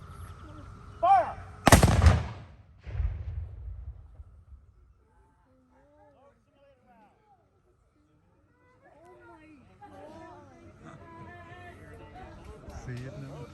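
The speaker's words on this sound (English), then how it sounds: "Hey, did they use gunpowder?" Revolutionary War reenactment gunfire salute with black powder muskets at a Memorial Day event, a loud outdoor volley with a crackling blast and rumbling echo, followed by a crowd chattering and children's voices at a distance.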